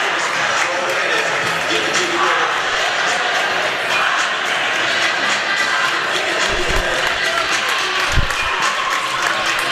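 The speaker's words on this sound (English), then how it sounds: "Student body cheering, I believe that we can win." A student crowd at a high school boys basketball game, Freeport against York, keeps up a loud, dense, sustained roar of cheering and chanting, with a few low thuds from the court underneath.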